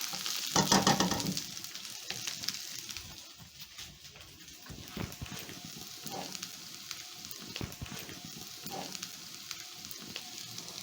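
Fries tossed into hot oil with coriander in a pan sizzle sharply at first, then settle into a steady quieter crackle with occasional stirring scrapes and no talking.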